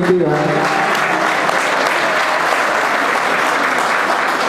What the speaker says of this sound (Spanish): un fuerte aplauso a él y a todo su comitiva